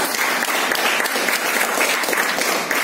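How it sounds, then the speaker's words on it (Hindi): An audience at an event in India breaks into loud, dense applause, a thick continuous patter of many hands clapping that stays at full strength throughout. "जबरदस्त ताली होनी चाहिए।"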